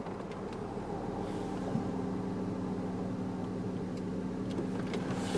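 A silver 2003 Saturn Vue AWD drives along with a quiet, steady engine and road hum, the pitch drifting slightly as the automatic shifts up through its gears; no one talks.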